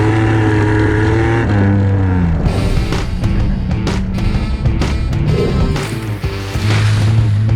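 A 1972 Datsun 240Z rally car drives hard, its engine loud and close, revving up and down with pitch climbing through gears, brief drops between shifts, and gravelly crunches mixed in.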